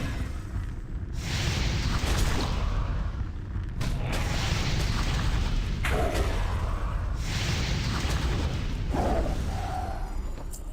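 Heavy booming cannon fire in a World of Warcraft battle, several loud blasts with rumbling tails and whooshes in a steady barrage across the scene, no talking over it.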